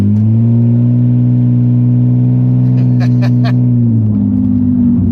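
A Nissan Skyline R34 GT with its catback exhaust removed idles with a loud, steady low drone and harmonic hum, a few clattery ticks midway, then a shift in pitch near the end; no talking.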